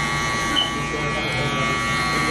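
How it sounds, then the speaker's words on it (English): An electric shaver buzzes continuously while cutting a high fade in a barbershop, a steady close, loud whine with no pauses. "we're just gonna keep going on with the shaver"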